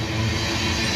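A unit tanker freight train rolls past close by, a steady loud rumble of wheels and cars with no break across the moment.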